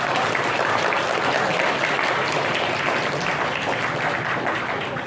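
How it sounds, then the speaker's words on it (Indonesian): Steady applause from an audience at a Halal Bihalal gathering of Kwaran Maliku II, dense and sustained throughout with no break, fairly loud and close. "tepuk tangan untuk beliau"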